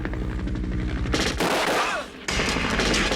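Rapid machine-gun bursts fired at a Huey helicopter approaching a Vietnam War firebase, loud staccato rattling, then a brief dense crackling volley and a sharp return of the gunfire.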